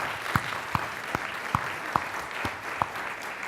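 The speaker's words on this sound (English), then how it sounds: "Okay, we'll clap for them." Audience clapping at an education conference opening session to honor trainers, a steady wash of applause with several sharp individual claps standing out near the microphone, moderately quiet overall.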